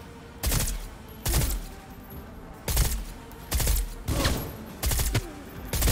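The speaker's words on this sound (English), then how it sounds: "This dude is blind shooting at me." Repeated bursts of enemy gunfire in the Cyberpunk 2077 video game, about six loud volleys spaced roughly a second apart with no talking.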